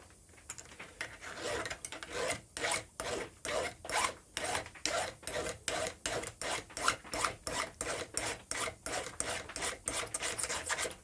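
A file rasps across the depth-gauge rakers of a Hotrod 365 X Torque chainsaw chain, giving a steady series of about twenty close, crisp strokes at an even rhythm with no talking.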